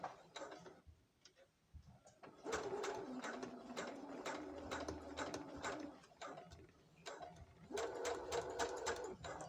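A sewing machine stitches lace and tulle in rapid clattering runs that start, pause and resume, with steady rhythmic needle ticks and a faint motor hum close by.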